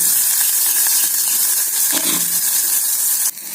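Onions sizzle and fry steadily in hot oil with mustard seeds and urad dal in a pan, a loud continuous hiss with slight crackle that dips briefly near the end.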